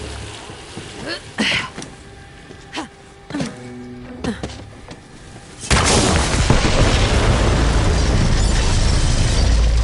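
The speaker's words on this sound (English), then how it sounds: "The explosion echoed through the forest" In the video game Borderlands 3, several sharp thuds and bangs sound at irregular intervals, then a loud bomb explosion erupts into a sustained roaring rumble echoing through a forest.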